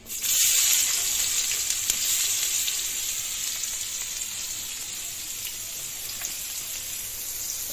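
Chopped onion hits hot oil left over from frying fish and sets off a loud, dense sizzle that swells at the start and then settles into a steady, slightly softer crackle.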